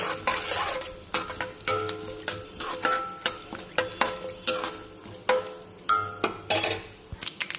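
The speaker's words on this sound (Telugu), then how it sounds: "సో పోపు అయితే వేగిందండి" Tempering spices sizzle softly in a pan while a metal spoon stirs and scrapes in repeated close clinks and sweeps, with a steady frying hiss underneath.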